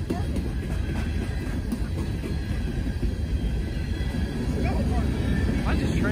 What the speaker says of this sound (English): Why is this train still coming?